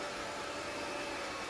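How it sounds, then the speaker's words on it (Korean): Steady airy hum of a robot vacuum cleaner roaming a room, a constant motor-and-suction hiss held at medium volume with no talking over it. "아리야, 청소기 돌아다니거나 말거나야?"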